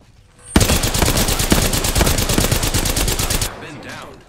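Sustained automatic gunfire in the Apex Legends video game, a loud, close, steady stream of rapid shots lasting about three seconds before cutting off sharply.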